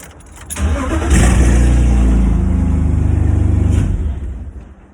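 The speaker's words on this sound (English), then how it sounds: "As soon as I put my foot on the throttle, it dies." A BMW-engined Mazda MX-5 Miata drift car sputters, then revs up loud and close under throttle for a few seconds before the engine stumbles and cuts out.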